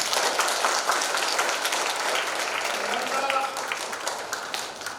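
Audience applause at a business briefing for a Siheung distribution mall development project, a steady dense wash of clapping lasting throughout with a voice faintly audible under it near the end.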